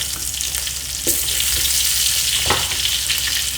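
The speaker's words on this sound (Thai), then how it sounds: "พอใส่น้ำมันแล้วนะคะ ก็นี่ค่ะตามด้วยกระเทียมนะคะ" Steady, loud sizzling of garlic frying in hot oil, with a few brief scraping stirs breaking through the crackle.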